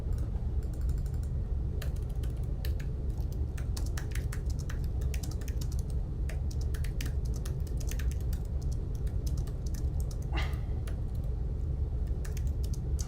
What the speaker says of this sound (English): So I'm just typing